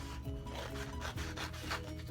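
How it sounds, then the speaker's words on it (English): Scissors cut through paper craft material for a fall Bible class project, giving a continuous close rasping, rubbing crunch across the whole stretch with no speech over it. "let me just go ahead and cut this one"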